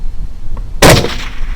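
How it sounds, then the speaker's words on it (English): A single loud rifle shot fired at a hog during a night hog hunt with a clip-on thermal sight, a sharp broadband crack with a short decaying tail, preceded by quiet outdoor background. "And third shot's on it."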